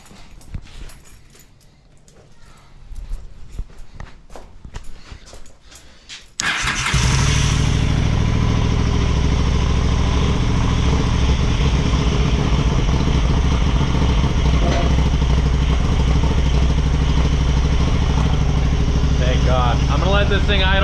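A motorcycle that sat unused for nearly a decade, started with the choke on: slow cranking clatter, then it catches and runs at a loud, steady, slightly uneven idle, with a voice talking in the background.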